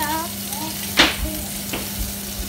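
Beaten omelette eggs fry in a pan with a steady sizzle while being stirred. One loud scrape comes about a second in, followed by softer stirring sounds, and faint voice-like tones appear at the start.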